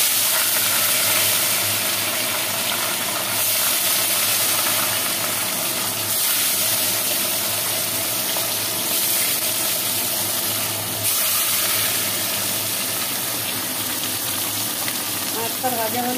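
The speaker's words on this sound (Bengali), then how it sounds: "এবার আমি মাছগুলো ভাজবো।" Fish frying in hot oil gives a loud, steady sizzle and hiss that runs unbroken from start to finish, close up, with a faint voice in the background at times.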